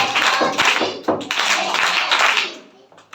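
A scout group clapping together in a rhythmic scout clap, loud and close, with several sharp bursts of many hands striking at once over about three seconds.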